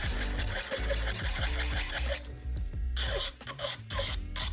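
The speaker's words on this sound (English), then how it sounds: "So how I like to file my nails is holding it as straight as I can, going up and down." A nail file rasps rapidly back and forth across acrylic nails, a close, loud, steady scraping rhythm with a short pause midway before the strokes resume.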